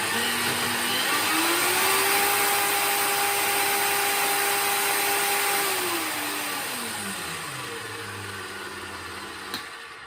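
A drill spins slowly at 170 revolutions per minute, a steady motor hum whose pitch rises, holds, then sinks as it runs on alone, close and fairly loud.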